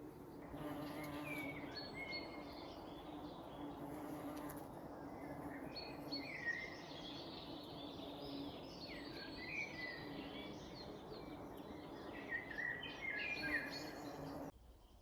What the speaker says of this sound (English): This is the humming horse chestnut tree. I love this sound. Hundreds of bees buzzing around.